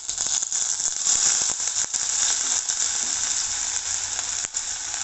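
Ginger pieces fry in hot oil for a chutney, giving a constant, bright sizzle with small crackles and pops throughout.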